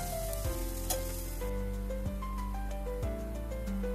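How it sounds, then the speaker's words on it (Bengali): Minced garlic and chopped onion sizzling in hot oil in a pan, a steady bright frying hiss that carries on throughout with a few soft clicks and clanks of utensils against the pan. "একটা প্যানে কিছুটা তেল গরম করে রসুন কুচি, পেঁয়াজ কুচি আমি দিলাম।"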